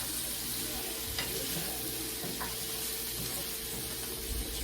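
Beanie weenies sizzle and fry steadily in a seasoned pan, a continuous crackling hiss with a few brief louder pops, fairly quiet and with no talking over it.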